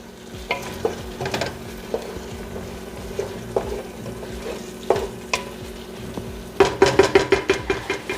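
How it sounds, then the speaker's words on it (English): Onions cooking in a pot for empanada filling are stirred with a utensil, giving a run of scraping knocks and soft taps over a steady low sizzle, growing busier and louder toward the end. "So we're just gonna stir that and let that cook till the onions are clear."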